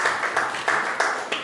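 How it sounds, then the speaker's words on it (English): An audience at a global security conference applauds a speaker, a steady, moderately loud patter of many hands with a few sharper swells, heard from the room without talk over it. "let's give him a round of applause once again"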